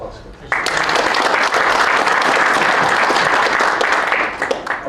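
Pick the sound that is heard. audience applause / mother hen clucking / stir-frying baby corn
audience applause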